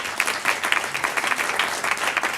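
An audience at a tech startup meetup applauds, steady dense clapping from a moderate-sized crowd that stays even and close throughout.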